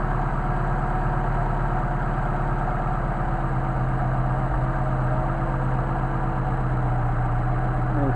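A Mercedes 190SL engine idles on cold carburetors with a steady, even low rumble and a constant throbbing pulse, close up and unbroken, with no voices.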